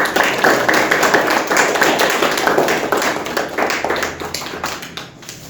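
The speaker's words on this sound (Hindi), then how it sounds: "बाकी सभी बच्चों ने बहुत ही अच्छा किया है, उसके लिए एक बार जोरदार ताली सभी के लिए।" Loud, close group clapping for children at a karate school annual function, rapid and slightly uneven hand claps filling the room before tapering off near the end.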